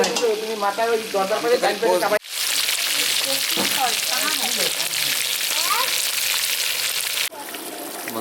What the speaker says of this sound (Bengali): এই যে মশলা কষানো হচ্ছে মশলা সব দিয়ে কষানো হচ্ছে